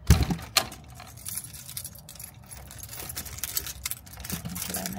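Car keys jangle and clink close by in a quiet outdoor space, a short metallic rattle that sets in at the start and then trails into softer, scattered jingles.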